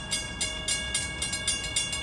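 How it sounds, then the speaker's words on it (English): A Long Island Rail Road train on the Montauk Branch east of Babylon runs past a railroad crossing with lowered gates, steady rhythmic clacking of wheels over rail joints at a moderate distance, with a continuous crossing tone behind it. "the gates are going down for train 41"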